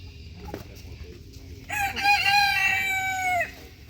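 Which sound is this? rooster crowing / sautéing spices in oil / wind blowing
rooster crowing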